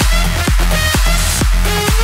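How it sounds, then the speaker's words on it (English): A dense electronic mix with a pounding kick drum on a steady beat runs through an SPL Twin Tube tube saturation plugin, loud, full and continuous, with no talking. "one other thing that I always use is the twin tube from SPL. And it sounds like this."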